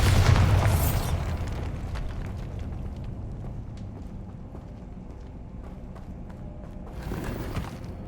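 A Bombarda spell explosion in the video game Hogwarts Legacy, a loud booming blast at the start that decays into a long rumbling tail of debris, with a smaller burst near the end.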